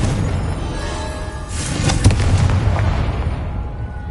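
A Confringo fire-blast spell exploding in Hogwarts Legacy, a sudden fiery burst with crackling impact midway through, over steady background game noise.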